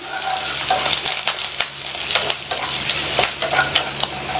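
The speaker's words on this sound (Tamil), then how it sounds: "எல்லாத்தையும் மிதமான தீயில வச்சு 1 நிமிஷத்துக்கு வதக்கிக்கலாம்" Green chillies, dried chillies and curry leaves sauté over a medium flame, a steady close sizzle broken by repeated scraping stirs of a spatula against the pan, with no voices.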